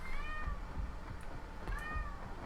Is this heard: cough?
no